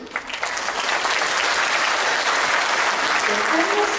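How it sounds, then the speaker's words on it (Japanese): Steady, dense audience applause at a concert, rising quickly at the start and holding loud and even throughout, with faint voices in the hall underneath. "せめての力強い拍手だけは最後までどうぞよろしくお願"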